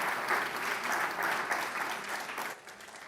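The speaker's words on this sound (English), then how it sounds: "round of applause for the host president, Uhuru Muigai Kenyatta." Audience applause at an agricultural summit's presidential panel, as the crowd claps for the host president, a dense, continuous wash of clapping that eases slightly toward the end, with no one speaking over it.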